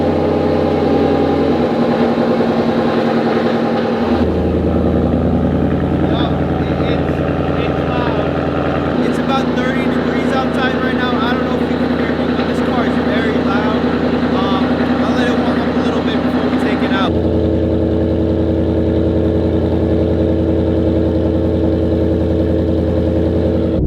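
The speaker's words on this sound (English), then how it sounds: "So this cold start is going to be very bad." A Ford Mustang GT cold-starting after sitting unused for quite some time: a loud, close engine drone that keeps running, stepping up and down in intensity at several points.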